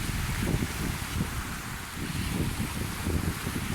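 Sea waves wash and break continuously against the shore with a broad, steady roar, mixed with wind buffeting the microphone; no voices are heard.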